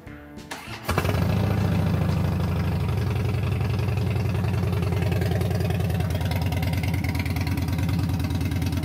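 A Harley-Davidson Dyna motorcycle engine fires up from a cold start, with a brief cranking burst and then a loud, steady, rumbling idle that holds close and unbroken.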